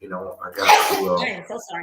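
A single loud, close human sneeze bursts out over speech, with someone talking just before and after it.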